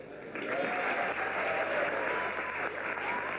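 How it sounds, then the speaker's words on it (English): Sustained applause from a crowd at a football awards ceremony, a steady wash of clapping that holds for a few seconds with no voices over it. "thanks very much for the applause and everything"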